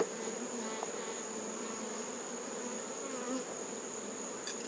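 Steady, close buzzing of honey bees at a hive kept in styrofoam boxes, a continuous drone with no talking throughout.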